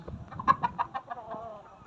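Chickens clucking in a short run of soft, rhythmic calls, fairly close, over a low background murmur.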